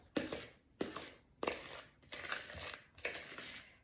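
A spoon works brownie batter in a bowl after a cup of flour is added, making five soft scraping, crunching strokes at a steady rhythm. The sound is close and quiet.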